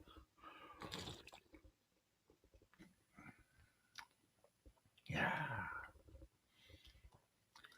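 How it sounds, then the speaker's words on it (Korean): Someone chewing ice close to the microphone, a couple of crunchy bursts separated by quiet gaps, with brief soft talk and small clicks in between. "저 잠깐 얼음을 좀 마실게요"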